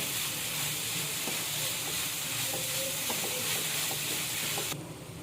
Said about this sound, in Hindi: बस इसको 1 मिनट और भूनेंगे, फिर हमारी फिलिंग तैयार हो जाएगी।